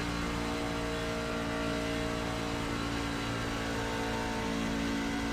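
A NASCAR Truck Series race truck at Kansas bogs down coming out of a turn, a steady, dense engine drone heard from on board, loud and constant with no talk.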